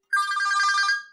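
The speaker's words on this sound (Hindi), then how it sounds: "किसका फोन है?" A telephone ringtone sounds once, a brief bright electronic trill lasting about a second, clear and alone.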